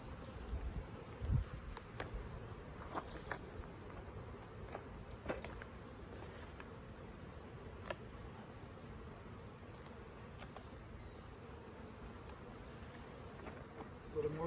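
Honey bees buzz around an open hive during a spring colony inspection, a faint, steady drone of many insects close by, with scattered soft knocks and handling noises over it.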